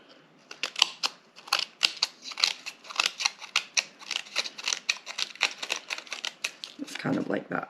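Scissors snip paper into grass shapes for a Mickey Mouse card, a rapid run of crisp close cuts in a steady rhythm, ending with a brief rustle of paper.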